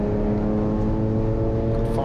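A yellow BMW race car in a Trackday Trophy race at Brands Hatch holds a loud, steady engine drone as it crosses the start-finish line, with a commentator talking over it.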